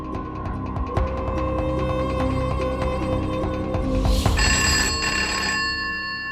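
A telephone rings in a home, repeated electronic ring bursts in a steady pattern at moderate level, with a brighter tone entering near the end.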